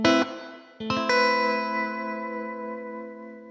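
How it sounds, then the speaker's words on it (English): Strummed electric guitar chords pass through a reverb pedal set to about a two-second decay. A brief chord is followed by a sustained one that rings out and fades smoothly, close and clear, with no voices. "So I'm just going to turn it up just for the moment to about 2 seconds."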